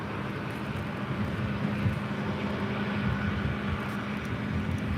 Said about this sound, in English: Alaska Airlines Flight 749 coming in from Las Vegas, the 737 MAX 9